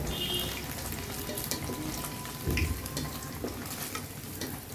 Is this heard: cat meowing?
no